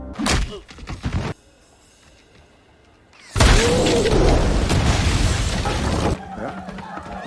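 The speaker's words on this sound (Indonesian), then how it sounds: "Tak lama kemudian kereta kuda pun meledak" A short burst of sound, then a horse carriage explodes in a loud, sustained roaring blast that rumbles on for a few seconds before dying down.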